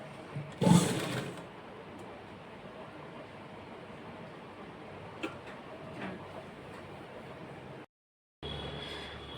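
A sewing machine stitches fabric pieces for a Barbie doll frock, a faint, steady ticking whir running throughout, with one brief louder burst near the start.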